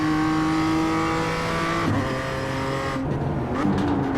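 A race car pulls out of a wide hairpin, its engine droning steadily and close before an upshift into third gear, then building again under gradual throttle.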